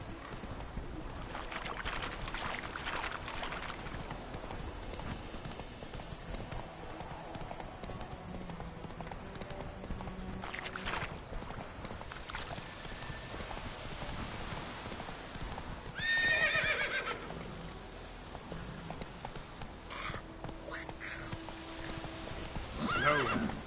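Roach the horse in a video game, with repeated clip-clop hoofbeats at a gallop and a loud neigh partway through, over game ambience and a faint voice.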